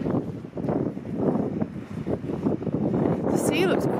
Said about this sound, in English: It's cold, it's windy, and it's starting to rain.